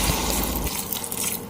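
Water from a cup pours into a pressure cooker holding sautéed oxtail seasoned with curry, a short close splash and trickle that eases into a quieter dribble.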